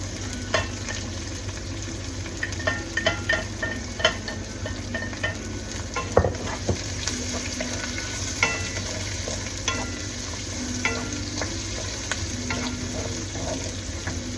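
Garlic and onion frying in a pan for beef caldereta, a continuous close sizzle broken by frequent scrapes and clinks of a utensil stirring against the pan, with no talk.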